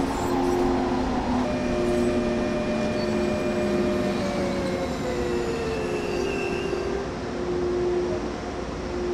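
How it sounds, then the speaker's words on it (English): A DB BR 185.2 electric freight locomotive in Train Sim World brakes to a stop, with a loud rolling rumble and sustained squealing wheel and brake tones that drift and fade as it slows. "To bring this freight train to a safe stop, only a small amount of braking force is required."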